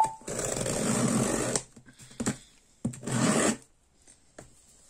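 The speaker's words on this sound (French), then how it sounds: "Donc on va le déballer ensemble." Crinkly rasping and rustling of packaging being torn and handled, two long bursts with short scrapes between, close by with no talking.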